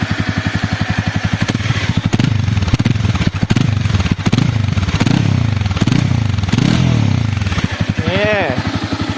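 A Honda CBR300R motorcycle with stock exhaust idles with a rapid, throaty exhaust putter, then revs up in a few surges before settling back to idle.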